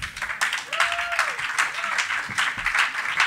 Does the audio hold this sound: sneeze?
no